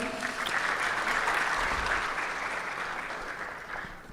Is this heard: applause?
yes